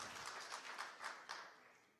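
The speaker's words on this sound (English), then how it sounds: "let's give a round of applause for iLumi" Audience applause at a state of entrepreneurship event, brief and faint, a short burst of scattered clapping that tapers off within about two seconds.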